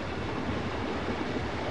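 A 1987 Australian long-distance passenger train rolling along the rails, a steady broadband rumble and hiss heard from inside a carriage, continuous and even with no voices.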